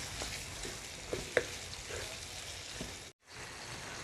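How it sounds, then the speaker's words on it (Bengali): Chicken with turmeric, salt and spices fries on a hot tawa while being mixed, a soft continuous sizzle with a few light utensil taps, cutting out briefly near the end before resuming. "এখন সব কিছু ভালো করে মিশিয়ে নেব"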